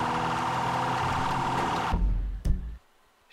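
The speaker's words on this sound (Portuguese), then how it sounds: "Deixa eu desligar a sirene." A police car siren in the video game GTA V wails loudly and continuously, then cuts off suddenly partway through. A brief engine or impact noise follows before near silence.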